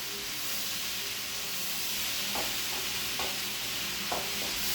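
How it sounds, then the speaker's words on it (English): Snap peas and mixed vegetables stir-frying in a pan for beef stir fry, a steady soft sizzle with a few light stirring scrapes, close and fairly quiet, with no talking. "you want to kind of cook the vegetables until they become a little bit soft"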